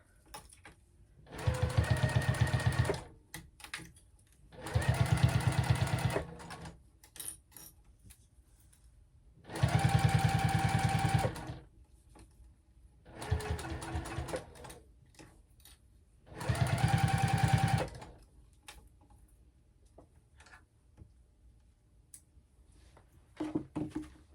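A sewing machine stitches a clutch bag in five distinct runs of about two seconds each, with brief pauses between them and no talking.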